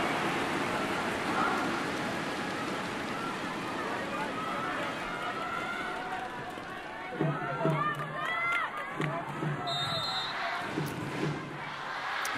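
A capacity crowd fills the Metropolitan Gymnasium during a women's volleyball Olympic qualifier between Japan and Thailand, a steady roar of voices with louder swells and drumming near the end, while a commentator talks over it.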